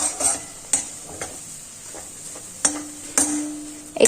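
Flour roasting for magaj, a Gujarati sweet, is stirred in a pan with the flame off: a soft sizzle runs underneath while a spoon scrapes and clinks against the metal in irregular strokes, with a few sharper knocks.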